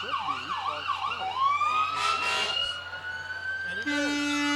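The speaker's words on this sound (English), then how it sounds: "I don't know if the kids love those sirens or if the kids are kind of scared sometimes" Wailing emergency vehicle sirens, including a fire and rescue truck, sweep up and down at a 2015 parade, ending in a steady horn-like tone, with people talking nearby.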